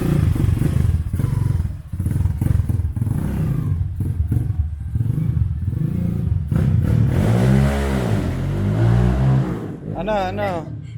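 A Rusi Diablo motorcycle engine idles and revs up in rising and falling surges, loud and nearby, with people talking over it and clattering thumps in the background.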